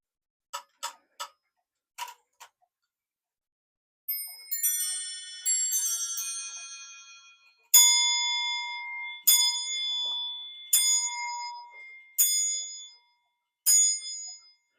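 An English quarter-striking clock gives a few sharp, isolated ticks, then its bell rings out in a run of clear, ringing strikes that decay between blows, loud and close in a quiet room.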